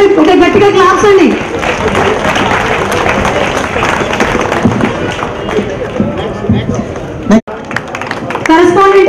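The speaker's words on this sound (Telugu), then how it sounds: "ఒక్కసారి ఒక గట్టిగా క్లాప్స్ అండి." Audience applause and clapping fill a showroom opening for a new automobile dealership, a dense crowd of hands sustained under a speaking voice, with a brief dropout near the end before the clapping resumes.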